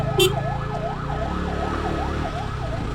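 An ambulance siren wails in repeated rising and falling sweeps through road traffic, carrying over a constant engine and street rumble, with a brief horn-like blip near the start.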